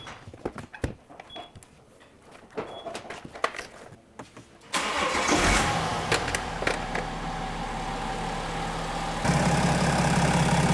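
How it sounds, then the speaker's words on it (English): A car engine cranks and catches at the workshop of an automatic gearbox specialist, jumping from quiet ticking and clicks into a steady close idle that deepens into a heavier rumble near the end. "Turn on engine"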